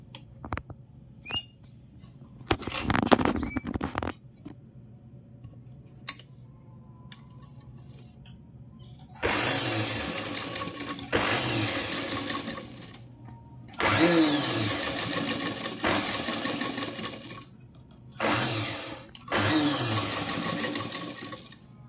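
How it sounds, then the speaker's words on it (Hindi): A sewing machine stitches a cross strip of fabric in several bursts of rapid whirring, loud and close, with short pauses and small clicks between runs. "तो आइए सिलते हैं।"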